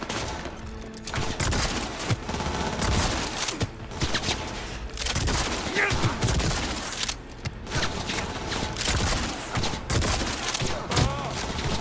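A shotgun fires repeatedly in the video game Cyberpunk 2077, with loud blasts coming in quick succession over dense, continuous combat noise.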